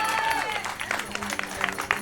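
A crowd applauds the second-place finisher of the 53 km race at the Samoëns Trail Tour 2019 awards, with steady, moderately loud clapping beneath an announcer's voice on a public address system.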